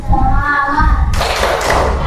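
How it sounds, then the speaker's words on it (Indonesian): A classroom group claps a rhythmic spirit clap together, the dense, loud burst of clapping starting about midway and following a brief voiced lead-in. "Kita tepuk semangat dulu."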